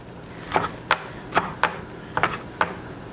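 A kitchen knife chops zucchini into large chunks on a cutting board, with about seven crisp, irregularly spaced cuts close by over a quiet background.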